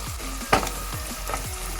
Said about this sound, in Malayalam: ഇനി ഇതിലേക്ക് നമുക്ക് ചെറിയ ഉള്ളി ഇട്ട് കൊടുക്കാം. നല്ലതുപോലെ നമുക്ക് വഴറ്റിയെടുക്കാം.